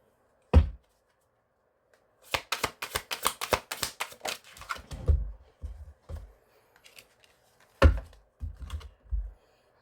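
Fingers tap out bursts of quick keystrokes on a computer keyboard, close and crisp, with a few louder isolated key thumps and short pauses between runs.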